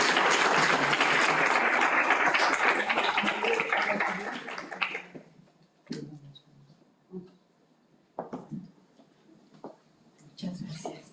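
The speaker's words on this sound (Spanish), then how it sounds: "Por favor, recibamos con un fuerte aplauso a la doctora Isaura Arellina Reguín" Loud, dense applause from a conference audience welcoming a speaker at a brain-week session, sustained for about five seconds before fading into scattered faint claps and brief talk.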